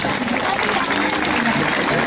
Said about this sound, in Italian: gli vogliamo fare un bel applauso?